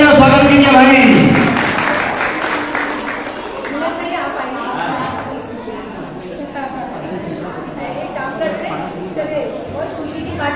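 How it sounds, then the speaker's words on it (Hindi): Audience applause at a ladies club installation event, scattered clapping beneath loud talk over an amplified speaker, with crowd chatter continuing as the clapping thins out. "फिर जोरदार ताली कीजिए आपको रंजना चौरसिया।"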